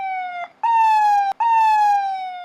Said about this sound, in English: The sirens blare